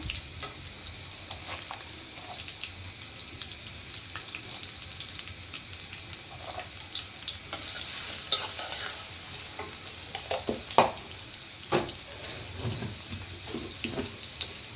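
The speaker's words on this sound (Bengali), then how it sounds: "এই যে এখানে দিয়ে দেবো সব গরম মশলা।" Whole garam masala spices frying in a pan for a Bengali potato curry (aloo dum), a steady close sizzle with stirring scrapes and a few sharper clinks, no voices.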